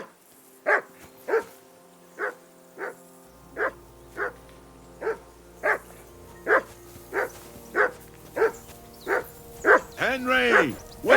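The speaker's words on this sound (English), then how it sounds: "Whistle at that mutt of yours to stop barking!" A dog barks in the medieval role-playing game Kingdom Come: Deliverance II, giving about fourteen evenly spaced, loud, close barks with a steady hum beneath and a longer whining bark at the end.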